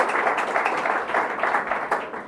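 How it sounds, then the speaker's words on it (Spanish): Church congregation applauding during a Spanish-language sermon on Paul's first epistle to Timothy, a steady dense patter of clapping lasting the whole stretch at moderate loudness. "Un aplauso, Señor."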